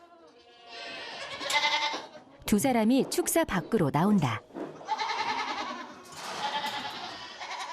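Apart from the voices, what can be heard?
black goat bleating in a pen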